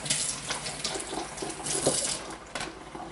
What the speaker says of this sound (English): And you wash them.